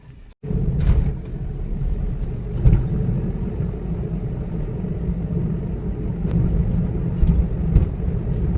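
A taxi car driving through Bhopal gives a constant low engine and road rumble from inside the cabin, with a brief drop at the very start and small bumps and knocks along the way.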